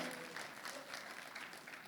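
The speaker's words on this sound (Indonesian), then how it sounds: "Tepuk tangan bagi Allah kita" A church congregation claps steadily and evenly for a couple of seconds during a sermon, moderately loud, with no voices rising above it.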